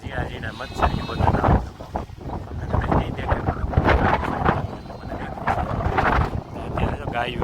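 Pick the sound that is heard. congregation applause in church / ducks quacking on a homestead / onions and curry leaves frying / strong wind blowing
strong wind blowing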